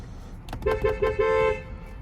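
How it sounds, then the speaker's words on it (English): A 2019 Volkswagen Atlas SEL Premium car horn honks in four short, loud blasts in quick succession, close by. "It's a good horn. Volkswagen has good horns."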